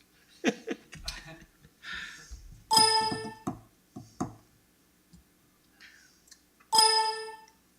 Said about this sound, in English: What does that bell mean?